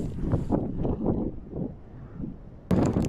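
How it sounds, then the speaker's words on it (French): Constant wind buffets the microphone while cycling in Iceland's highlands, producing a rough, low rumbling roar in uneven gusts that drops briefly and surges back loud at the end. "Ça s'arrête pas, il s'arrête jamais le vent là."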